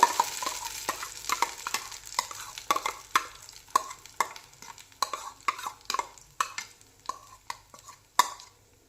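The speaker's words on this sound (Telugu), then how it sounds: "సో ఈ స్వీట్ కార్న్ పేస్ట్ని ఆ నెయ్యిలోనే బాగా ఫ్రై చేయాలండి." Sweet corn paste frying in ghee while being stirred, a rapid series of sharp spatula scrapes and taps against the pan over a light, continuous sizzle.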